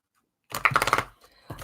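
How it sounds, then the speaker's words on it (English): A quick, close flurry of papery flicks as cards are riffled together, followed by a short tap. "I'm going to go ahead and shuffle this deck."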